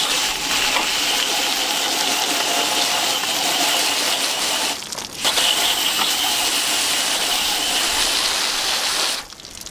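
Water from a hose rinses a soapy window air conditioner, a loud continuous splashing hiss close by that briefly drops out midway and again just before the end.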